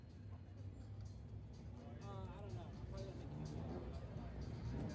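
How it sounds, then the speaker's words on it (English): A four-rotor rotary-engine race car roars and wails at a distance amid crowd chatter at a motorsport festival, its note rising and falling as it revs, with people talking nearby. "I think this is the most ridiculous sounding car all weekend."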